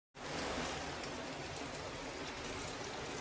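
Steady rain falls outside a home kitchen where ottada is cooked in an iron pan, making a dense, even hiss with no breaks and no talking.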